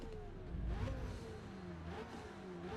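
A car engine in Forza Motorsport revs and winds through the gears, pitch sweeping up and down in a steady, fairly quiet stream with no talking.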